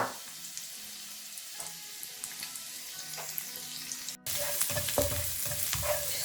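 Minced garlic sizzles in a small amount of oil in a pan, a soft steady crackle with stirring scrapes, growing louder and busier in the second half.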